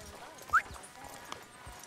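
Horse hooves in a western video game give a few sparse clops, the clearest one early and a lighter one later, set against soft game ambience with a faint voice.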